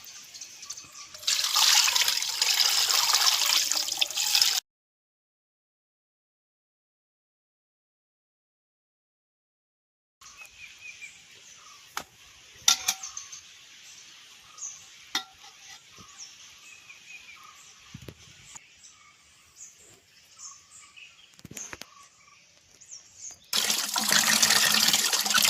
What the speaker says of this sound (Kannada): ಈ ರೀತಿ 4ರಿಂದ 5 ಸಾರಿ ನೀರಲ್ಲಿ ಚೆನ್ನಾಗಿ ತೊಳೆದ್ರೆ ಸಿಪ್ಪೆ ಎಲ್ಲ ಹೋಗುತ್ತೆ.